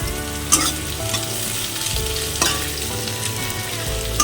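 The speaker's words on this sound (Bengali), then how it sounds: "তেলটা খুব ভালো করে গরম করে নিয়ে এর মধ্যে পেঁয়াজ দিয়ে দিলাম।" Chopped onions fry in well-heated oil for chicken biryani, giving a steady loud sizzle throughout, broken by a few sharp clinks of a stirring spoon against the pan.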